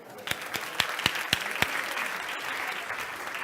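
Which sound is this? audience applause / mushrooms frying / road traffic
audience applause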